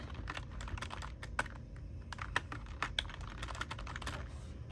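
Rapid, irregular keystrokes on a computer keyboard as a staff ID is typed in, crisp close clicks with a few louder taps over a low steady room hum.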